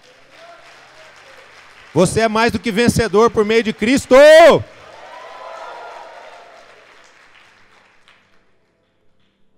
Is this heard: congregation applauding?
yes